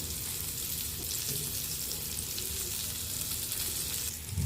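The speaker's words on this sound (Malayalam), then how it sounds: "എണ്ണ കുറവാണ്, അതുകൊണ്ട് കുറച്ച് എണ്ണയും കൂടെ ഒഴിച്ചു കൊടുക്കുന്നുണ്ട്" Fish pieces frying in a shallow layer of oil, with a steady, close, dense sizzle that holds evenly throughout and swells slightly at the end, no voices.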